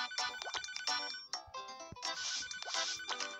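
Ringing phone in the restaurant video game Papa's Pastaria To Go, a bright electronic ringtone repeating in quick rhythmic bursts, clear and alone.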